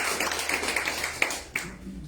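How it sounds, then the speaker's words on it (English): Scattered hand claps from an audience at a life coaching graduation ceremony, a loose patter of taps that builds briefly with a couple of sharper claps before fading out, heard alone without talk. "So I just want to clap for them."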